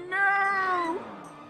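A bird cries out in The Legend of Zelda: The Wind Waker, a single clear, loud, drawn-out call with a falling tail, heard alone.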